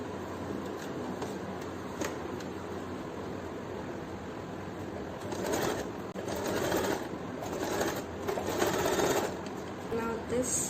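Sewing machine stitching fabric for a homemade face mask, a steady close whirring hum that picks up into louder running bursts in the second half.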